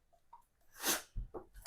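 A dog gives a few short, sharp sneezes and snorts in quick succession at close range, fairly quiet overall.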